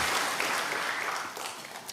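A church congregation applauds during a Sunday worship service, a soft, steady wash of many hands clapping for about two seconds.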